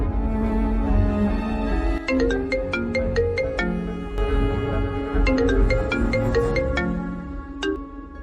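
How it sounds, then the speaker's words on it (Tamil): A telephone ringtone plays loud and unbroken in a home, repeated melodic bursts going on and on with nobody picking up. "ஃபோன் எடு அர்ஜுன்."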